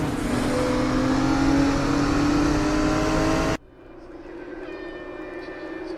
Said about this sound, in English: listen to the way he's feathering that throttle